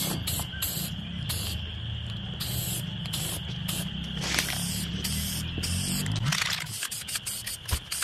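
An aerosol can sprays weld-through primer onto bare metal on an 1987 Bronco cowl, in a steady hissing stream broken into several short bursts, fairly quiet, with a faint hum and small mechanical knocks near the end.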